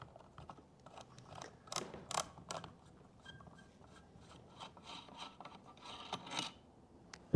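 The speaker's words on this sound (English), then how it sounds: "we're going to take our fore end off" A shotgun's fore end being removed during cleaning, a few close metallic clicks, rubs and scrapes with small sharp knocks scattered across several seconds, with no voices.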